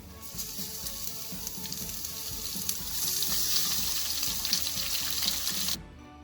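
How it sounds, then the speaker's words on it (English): Beef added to a hot pan of curry base with curry leaves sizzles and crackles loudly and steadily up close, then cuts off abruptly near the end. "Next, I'm going to add in the beef."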